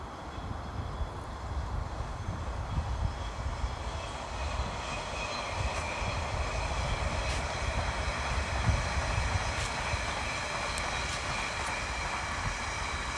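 A train passing near Theydon Bois rumbles past with a steady roar and rhythmic clatter of wheels on track, some faint metallic squeals above, continuous and fairly close.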